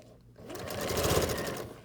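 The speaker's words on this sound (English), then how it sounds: "You're going to stitch along the top edge with 3/8 of an inch seam allowance." A sewing machine stitches a fabric mask along the top edge, a close, steady whirring run that swells and holds for over a second.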